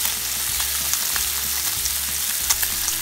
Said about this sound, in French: porc mariné et on va les faire revenir jusqu'à les griller légèrement